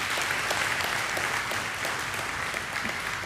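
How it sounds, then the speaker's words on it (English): Church congregation applause during a service, a short, full burst of many people clapping together at a steady, even level throughout. "Let us give the Lord of Lords and the King of Kings a round of applause."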